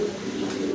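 Fancy pigeons kept in pairs with their chicks give a brief, soft, low coo, close by and alone.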